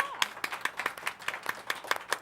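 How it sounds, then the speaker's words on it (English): Audience clapping for a Meals on Wheels president at a local variety show, with distinct sharp hand claps in a steady rhythm, fairly sparse like a small crowd, moderately close. "Round of applause, please."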